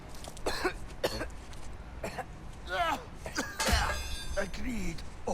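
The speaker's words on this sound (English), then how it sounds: "Is he coughing up souls?" A character in God of War Ragnarök coughs and splutters in short bursts, heard under and between spoken dialogue alongside a sharp clinking game effect.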